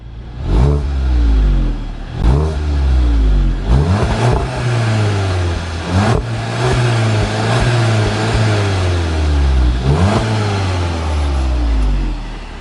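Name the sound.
VW MK7 Golf GTI engine revving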